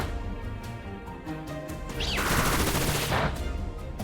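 Bullet Seed landing again and again in a competitive Pokémon battle, a loud burst of crashing, thwacking impacts with a rising whoosh over a busy game soundtrack.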